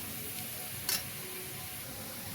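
Garlic frying in a pan for a shrimp and taro stolon curry, a steady broadband sizzle throughout with one brief brighter crackle or scrape near the start, no voices.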